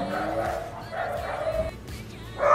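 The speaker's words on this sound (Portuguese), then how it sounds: "Agora soltou os cachorros tudo do condomínio." Several dogs in a residential condominium bark and yip in bursts, somewhat distant, with a louder burst at the end.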